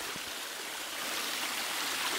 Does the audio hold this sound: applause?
no